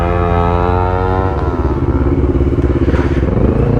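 A Honda CBR motorcycle engine starting up and running nearby, a loud steady motor drone that settles into an even, pulsing idle.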